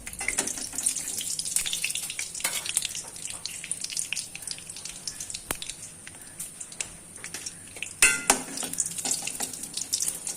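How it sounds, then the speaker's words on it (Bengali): Whole garam masala, cumin seeds and dried red chillies frying in hot oil, a steady close crackling sizzle with scattered pops and a few louder clanks of a utensil against the pan. "তেলটা গরম হয়ে গেছে এর মধ্যে আমি দিয়ে দিলাম গোটা গরম মশলা সাদা জিরে শুকনো লঙ্কা"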